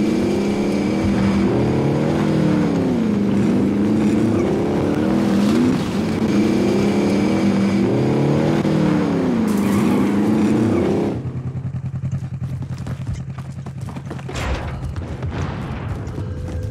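A car's engine drones and revs in Call of Duty Warzone, its pitch rising and falling in repeated surges for about eleven seconds before it cuts to quieter game ambience with faint thumps.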